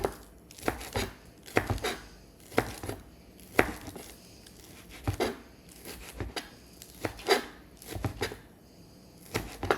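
Green onions being chopped on a cutting board with a knife, close and crisp, in clustered bursts of quick thuds separated by short pauses, steady and fairly quiet, with no talking.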